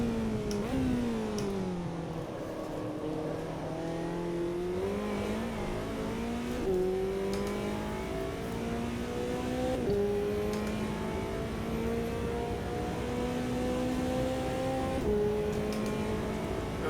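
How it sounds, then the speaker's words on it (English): Simulated race-car engine of a McLaren GT4 in Automobilista 2 at Spielberg, droning and shifting pitch through repeated gear changes as two BMW cars are passed, a steady continuous roar with no talking. "Those were just the two beamers we passed."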